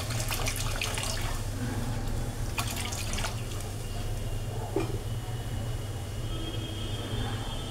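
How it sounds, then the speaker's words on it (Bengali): Water from a tap pours and drips into a cooking pot while sour lentil dal is prepared, a steady running trickle with scattered splashes over a low background hum. "এটার মধ্যে আমি একটুখানি জল দিচ্ছি।"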